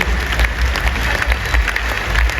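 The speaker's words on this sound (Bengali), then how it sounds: "জোরে হাততালি। জোরে। আরো জোরে।" An audience at a winter conference session applauds loudly and continuously, a dense wash of clapping hands with a low crowd rumble underneath.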